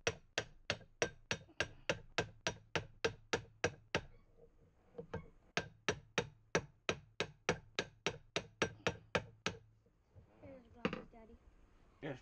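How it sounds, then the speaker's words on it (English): A small rawhide hammer taps a part held in a lathe, a long run of sharp, evenly spaced blows, loud and close, pausing briefly midway before resuming, with a short voice near the end. "we use a little rawhide hammer to help persuade this to"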